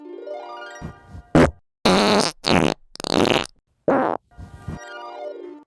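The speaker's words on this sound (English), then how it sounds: "if we could play all 3 farts that we have now in the fart bank" Three recorded farts play back one after another, loud and close, each a buzzy, sputtering burst separated by short gaps.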